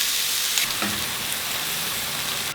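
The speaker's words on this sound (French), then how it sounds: "Dans la même poêle, je vais faire revenir 3 petits oignons, un petit peu de gingembre et le piment prévu dans la sauce tomate d'hier" Onions, ginger and chili frying in a pan, a dense continuous sizzle close up with a single stir or scrape early on, loud and steady with no voices.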